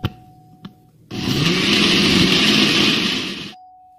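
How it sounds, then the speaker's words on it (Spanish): A blender whirs loud and steady for about two and a half seconds, blending frozen papaya and passion fruit into juice, starting abruptly after a couple of soft clicks and stopping suddenly. "vamos a ponerle un poquito más de papaya y procedemos a licuar"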